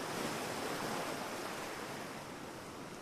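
Sea waves wash continuously around a boat in the game Witch of Fern Island, a steady, full-bodied roar of surf and water with a faint windy hiss and no distinct breaks.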